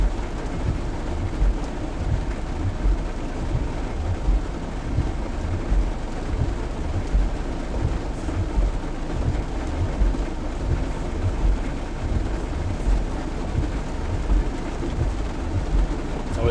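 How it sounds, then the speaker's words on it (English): A Friday evening thunderstorm pours heavy rain with deep, rolling thunder rumbling underneath, a continuous loud wash of water and low booms without any talking. "It's raining pretty good"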